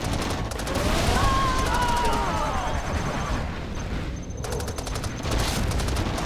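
Dense, continuous gunfire and explosions rumble from a Command & Conquer: Generals USA mission battle, with overlapping bursts of weapons fire and rising whistles over a loud, unbroken roar.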